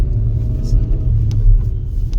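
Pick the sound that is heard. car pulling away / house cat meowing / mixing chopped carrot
car pulling away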